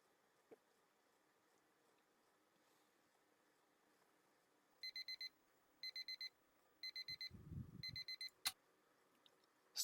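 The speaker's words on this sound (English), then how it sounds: "Stop my alarm clock in a slightly rough manner." A video game alarm clock rings indoors in short, bright electronic beep bursts, four quick groups in a row, before a thump and rustle as it is stopped.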